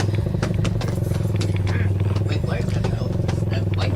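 Motorcycle engine idling or running at close range with a steady low, throbbing hum and rattly clatter, continuous under the scene of a horror audio drama.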